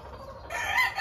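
A fighting rooster crows once, starting from quiet and rising into a loud, bright call near the microphone, with no talk.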